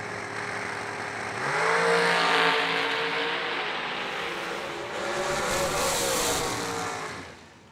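Heads-up drag racing pair launching off the line at a Twin Fifties event, engines roaring loud and sustained as they accelerate away, with a second surge of power midway before fading at the end.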